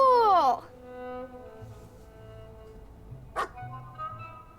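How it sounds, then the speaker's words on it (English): A cartoonish cat character in a Cthulhu adventure video game lets out a short bark like a dog, followed by quieter game sounds and a brief sharp noise later, with no talk. "But how come he barks? Well, he was raised by a doggy."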